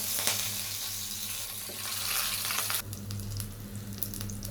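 Fennel seeds with green and dried red chilies sizzle in hot oil for a chicken dopiaza, a steady close crackle and hiss that softens slightly partway through, with no talking.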